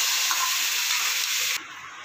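Ground spice paste for rasam hits hot oil with curry leaves in a pan, giving a loud, steady frying sizzle that holds for most of the moment before dropping sharply to a softer hiss.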